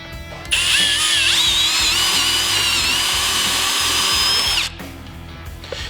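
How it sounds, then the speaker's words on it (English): A power drill with a 9/32 drill bit runs steadily through a Jeep TJ/LJ Wrangler aluminum drop-down tailgate, a loud, continuous high whine lasting several seconds before cutting off, with no talk. "So we're going to use a 9/32 drill bit and just run it straight through."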